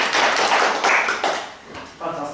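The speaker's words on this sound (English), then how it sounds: "Give Brian a round of applause" Short burst of audience clapping for a volunteer at a hypnotherapy demonstration, a few seconds of close, fairly loud applause that tapers off.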